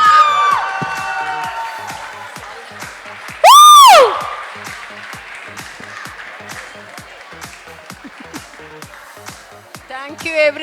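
A school audience applauds and cheers a teacher: dense clapping, then a loud, close whoop or whistle near the middle, and the crowd noise fades under a voice.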